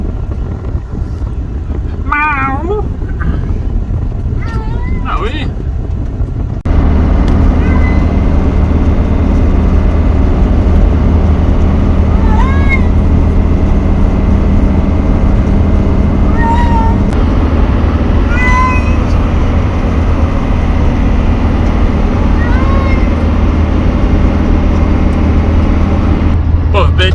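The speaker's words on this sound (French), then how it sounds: "entre le bruit du moteur et les miaulements" A cat meows repeatedly in drawn-out, plaintive cries over a steady low engine drone from a car moving on the A20 motorway, with some brief talk early on.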